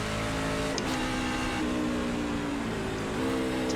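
A NASCAR Class C car in the iRacing simulator runs with a steady, droning engine tone that steps in pitch at a couple of gear changes, with no talk over it.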